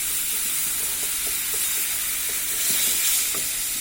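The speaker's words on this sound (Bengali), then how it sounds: "ভালোভাবে মিশিয়ে নেওয়া লাগবে এটাকে, যেহেতু এটা আচার।" Coriander leaf pickle being stirred and mixed in a hot pan, giving a loud continuous sizzle with rapid soft scraping and tapping of the utensil throughout, no voices.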